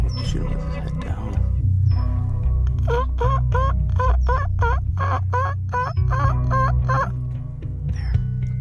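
A wild turkey gobbles repeatedly in a quick series of rattling calls during a Michigan turkey hunt, fairly close over a low outdoor rumble, with hushed talk nearby.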